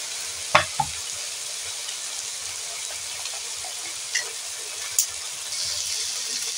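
Chili powder and turmeric powder stirred with water in a bowl, quiet liquid swishing and a few sharp clinks of a spoon against the bowl, with faint background hiss and no talking.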